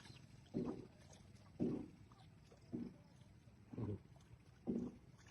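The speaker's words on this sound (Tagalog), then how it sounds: "Kaya sumakayo ako sa bangka papunta ko ng fish cage." Water sloshes and splashes against a small boat heading to a fish cage in steady, regular strokes, about one every second, quiet with light wind in the background.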